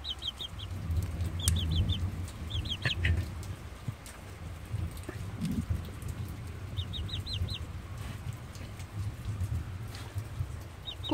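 A chicken clucks softly near a rural home, short low calls scattered across the stretch, alongside quick high bird chirps in small bursts and a light patter like rain in the background, with no talking.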